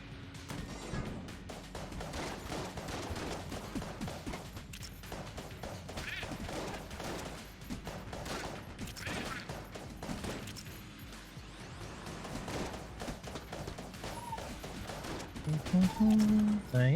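Dense, continuous game gunfire from a turret in Enter the Gungeon, steady rapid bursts layered with crashes and impacts, loud throughout with no pauses.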